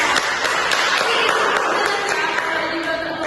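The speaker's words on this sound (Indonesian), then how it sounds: "Tepuk tangan dulu buat Evita." Schoolchildren in a classroom clap together for a classmate, a dense, fairly loud burst of quick overlapping handclaps lasting a few seconds with faint voices mixed in.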